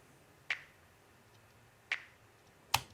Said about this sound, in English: And then we have a filtered clap.